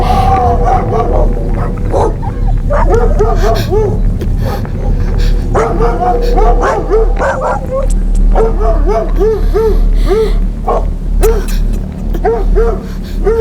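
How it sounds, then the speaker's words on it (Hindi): Several dogs bark, yip and whimper in overlapping, excited bursts throughout, loud and close over a steady low background rumble. "डॉग्स हर जगह, यहाँ और वहाँ।"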